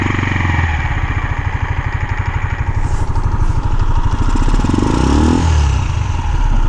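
A cold Hartford HD125 motorcycle engine revs steadily on a hot day, a loud close-up putter with rising and falling throttle blips, no talking.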